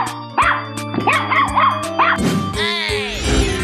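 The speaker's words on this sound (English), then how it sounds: "Dog." Cartoon dog barking in a children's animal painting cartoon: a run of loud, close barks and yips in quick succession over a steady musical backing, ending in a longer whining call.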